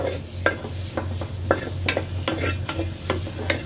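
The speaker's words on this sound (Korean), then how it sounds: "조금 볶다가 보면 노릇노릇하게 고기가 기름도 나오고 노릇노릇해질 때가 있습니다" Pork stir-frying in a pan, an ongoing sizzle with repeated scraping knocks of a utensil against the pan at an uneven rhythm, close and without talk.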